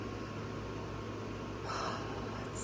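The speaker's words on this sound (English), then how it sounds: "Sorry about the fan." A steady electric fan hums and whooshes close by, a constant low drone with a faint higher whir near the end.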